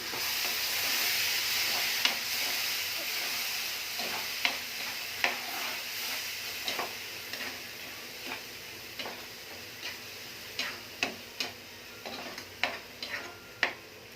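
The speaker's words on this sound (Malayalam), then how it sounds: "തക്കാളി പേസ്റ്റ് ഒഴിച്ചു കൊടുക്കാം." Tomato paste sizzling in a pan for a dry chundaka curry, a soft steady frying hiss with frequent light taps and clicks of a spoon against the pan.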